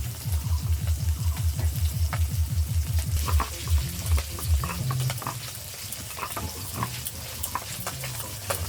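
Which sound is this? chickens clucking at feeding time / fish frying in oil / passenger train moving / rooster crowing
fish frying in oil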